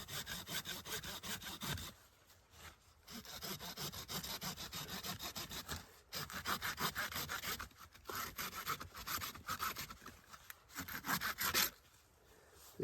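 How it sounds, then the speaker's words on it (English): A small saw blade on a Camillus hip hatchet cuts through a wooden ground stake outdoors in the backcountry, with steady rapid back-and-forth rasping strokes, close and loud, pausing briefly a few times. "See that Camillus hip hatchet with a saw blade?"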